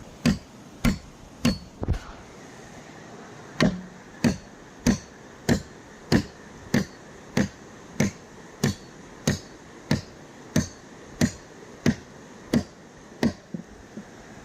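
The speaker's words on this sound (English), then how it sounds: "28-ounce hammer" A 28-ounce hammer drives 8-inch spikes into a footbridge under rebuild, striking in a steady rhythm of sharp, loud metallic blows roughly every 0.7 seconds, with one short pause early on, no talk.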